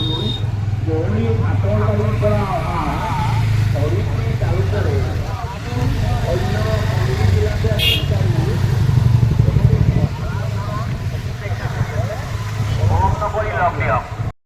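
A motorcycle engine drones steadily throughout while riding to the Sarthebari fair in Assam, with road noise and voices talking over it.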